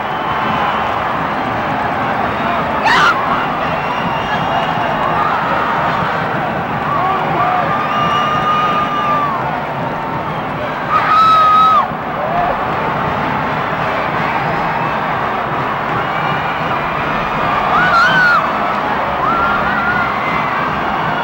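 Basketball arena crowd at the 1998 Kentucky boys Sweet 16 high school semi-final, Scott County vs Lexington Catholic, roaring loudly and steadily throughout, with whistles and shrill screams rising above the din several times.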